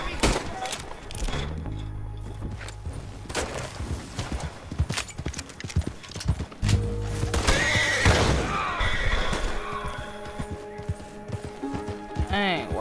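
A horse neighs and whinnies repeatedly amid clip-clopping hooves and scattered gunshots in Red Dead Redemption 2, with people talking over the game sounds throughout.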